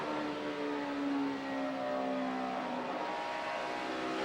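NASCAR stock car at Dover in 2011 practice, losing rear traction on corner exit, heard as a steady engine drone with a sliding pitch, fairly faint and distant, no talk.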